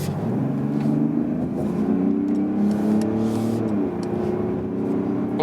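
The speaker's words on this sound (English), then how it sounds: "show you some more of that diesel acceleration" A 2020 Mercedes GLE 350d diesel SUV engine pulls hard under steady acceleration on a motorway, a smooth rising drone with a brief gear-change dip, loud and close, no talking.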